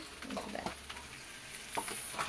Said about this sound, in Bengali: আলু ভাজা হচ্ছে, তেল গরম হয়ে গেছে